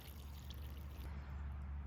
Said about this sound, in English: I'm gonna place enough water in the bag so that it coats the rack.